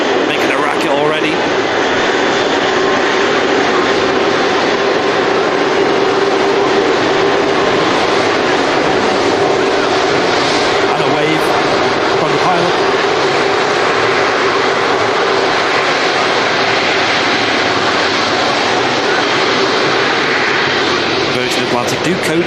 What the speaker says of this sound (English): Rolls-Royce Trent 700 engines making a racket already.